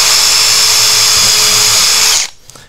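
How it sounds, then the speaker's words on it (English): A power drill bores holes into pallet wood as part of building a shelf, its steady high whine running loud and close before cutting off abruptly near the end. "we can start to blast some drill holes in"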